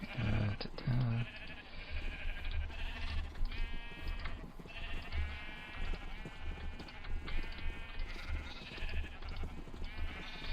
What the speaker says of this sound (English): I have a feeling there's going to be a lot of gray sheep in here.